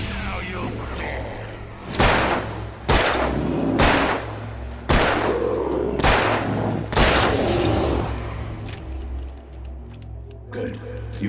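Gunfire in Alan Wake: about six loud, close shots ring out at roughly one-second intervals, each with a sharp crack and a short echoing tail, then a quieter stretch of rattling sounds.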